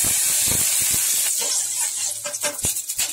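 Butter sizzles and hisses steadily in a hot kadai pan, a constant bright frying noise, with a few soft clinks and scrapes of kitchen utensils and no talking.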